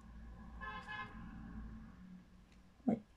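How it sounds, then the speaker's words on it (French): A car horn gives one short honk of about half a second, heard at a moderate distance over a steady low road rumble, with a faint thud just after. "Oui, bien sûr, on klaxonne."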